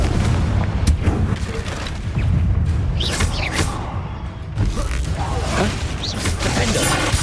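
Fire-blast spells from Hogwarts Legacy on PS5 burst repeatedly over a dense, continuous wash of combat noise, with loud booming impacts and crackling whooshes; a voice calls out spell names during the fight.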